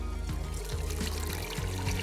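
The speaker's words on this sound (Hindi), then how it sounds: "और अब डाल देते हैं पानी" Water pours steadily into a cooking pot holding fried onions, cloves, cinnamon and cumin for daal saag rice, a close, continuous trickling stream with a faint bubbling texture and no voices.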